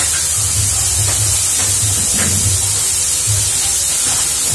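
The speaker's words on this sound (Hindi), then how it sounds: "दूसरी बार हम फ्राई कर रहे हैं" Potato pieces for crispy honey chilli potatoes fry a second time in hot oil, giving a loud, steady, close hiss and bubbling sizzle with no pause.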